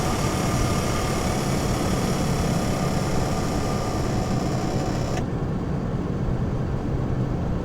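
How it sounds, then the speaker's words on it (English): Piston engine of a Piper PA-28 light airplane idling on the ground before takeoff, a steady loud broadband drone that continues without pause and then cuts off abruptly to a quieter hum near the end; no one speaks. "since this is a recip airplane, piston engine"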